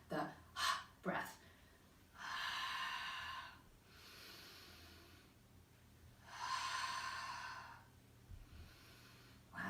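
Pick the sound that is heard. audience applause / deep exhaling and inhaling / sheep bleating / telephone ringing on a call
deep exhaling and inhaling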